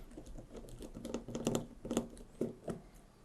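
Small screws on an airsoft hop-up unit being worked loose, a close, quiet run of light clicks and taps from a screwdriver and fingers, irregular over a few seconds.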